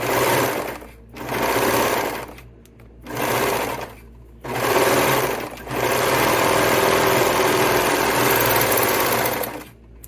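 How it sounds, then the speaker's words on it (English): Sewing machine stitching the right sides of fabric together for a winter beanie, running in loud bursts of rapid stitching with short pauses between, then a long continuous run. "we're sewing right sides together."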